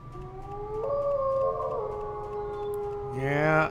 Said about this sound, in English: the wolves don't sound happy